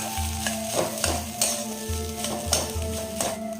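A spoon stirs chili powder, Kashmiri chili powder and spices through food in a pan, scraping in repeated strokes over a steady sizzle, close and fairly loud.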